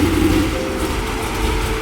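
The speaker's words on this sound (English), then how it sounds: "Car sounds beast." A car engine runs at a steady rumble, loud and close, with a low droning tone and no talking over it.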